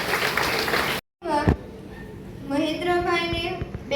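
Audience applause at a school enrolment festival, a loud, dense burst of clapping that cuts off abruptly before a voice begins speaking over a microphone.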